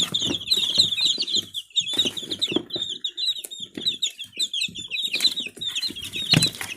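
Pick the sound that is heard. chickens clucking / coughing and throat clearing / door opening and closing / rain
chickens clucking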